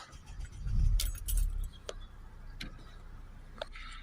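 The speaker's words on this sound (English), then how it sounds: "Okay, so we're back in the car, let's start it up." Keys jingle, then a Mercedes E350 engine cranks and catches with a low rumble that settles into a quieter idle with light ticking.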